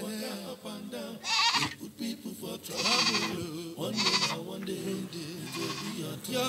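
Goat bleating in a Nigerian comedy film scene, several loud wavering bleats rising in bursts over a busy background, with voices talking around them.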